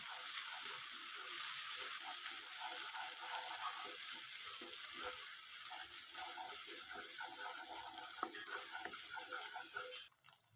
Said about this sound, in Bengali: পেস্ট করে রাখা পটলের খোসাগুলো দিয়ে দিলাম। নেড়েচেড়ে খুব ভালোভাবে মিশিয়ে নিচ্ছি।